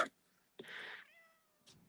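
A house cat gives a short meow, then a longer clear drawn-out meow that trails off, followed by a faint brief sound, all close and quiet with silence between.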